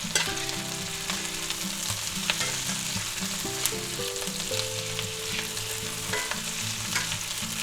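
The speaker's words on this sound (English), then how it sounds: "let's give them another stir" Peppers and onions for a Philly cheesesteak sizzle in a pan while being stirred, a busy frying hiss with scraping stir sounds and a low melodic tone running underneath, with no talking.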